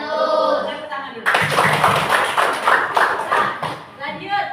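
Elementary school pupils in a classroom clap for a group that answered correctly, a brisk, rhythmic run of hand claps breaking in after a voice and carrying on with talk mixed in.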